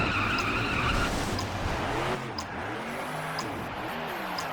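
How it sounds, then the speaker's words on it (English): Sustained tire squeal from a simulated burnout in the NASCAR 2011 video game, a loud shrieking skid over a roaring race car engine that shifts pitch and eases off partway through. "That completes the burnout."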